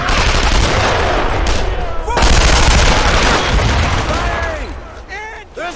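Dense, loud automatic gunfire fills a tactical combat video game, with sustained machine-gun bursts and booming shots that ease off near the end as shouted voices come through.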